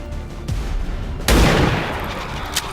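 A shot is fired at a sectoid in the turn-based tactics game XCOM 2. A smaller report comes first, then a loud, sharp burst of gunfire that rings out briefly before settling into a low rumble.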